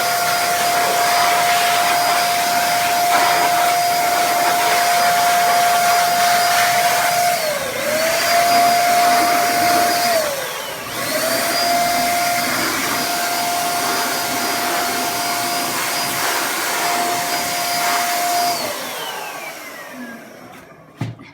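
A HomeRight paint sprayer sprays chalk type paint with a loud, steady motorized whine that runs almost without a break, dipping briefly twice before cutting off near the end.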